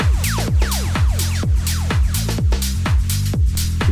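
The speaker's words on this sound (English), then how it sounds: "shaker slash clap drum loop" Tech house drum loop of shaker and clap over a steady kick, a tight repeating groove with bright hissing shakers and sharp claps, loud and alone.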